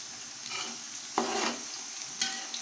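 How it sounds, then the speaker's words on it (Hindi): Sliced onions, four large ones, frying in a cup of oil for chana pulao, giving a steady close sizzle with a couple of brief stirring scrapes and no talking. "प्याज को हम लाइट गोल्डन ब्राउन होने तक पकाएंगे इसको"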